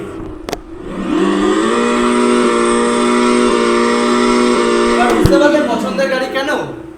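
An electric scooter's loud, steady, engine-like whine rises into a sustained rev for several seconds as it is throttled, then drops off with a few fading sputters.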